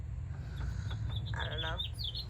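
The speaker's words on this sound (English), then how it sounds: "The birds are so loud." Birds chirp outdoors, bright short calls trilling over a constant low rumble, growing busier toward the middle, with no speech.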